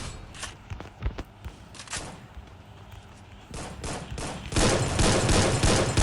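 Gunfire in the video game Free Fire, scattered shots and short bursts at first, then a denser, louder stretch of rapid fire toward the end over faint background noise.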